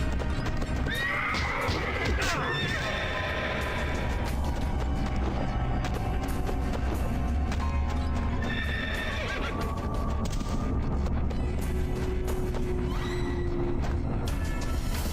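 A horse in the video game Deadhead Fred whinnies loudly several times while hooves clip-clop, over a busy layer of game music and effects.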